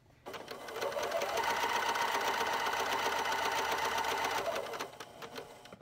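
A sewing machine runs steadily for about five seconds, stitching fabric for a travel sleep mask and headband, a close, even mechanical whir that starts and stops cleanly.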